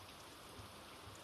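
Steady rain falls on a farm during the monsoon, a dense, even hiss of drops with soft low rumbles beneath, fairly quiet and continuous, with no voices.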